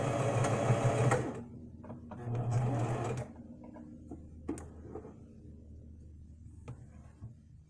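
Domestic sewing machine stitching a dress, with rapid whirring bursts that start and stop, interspersed with quieter clicks and handling of the fabric, close and clear with no talk.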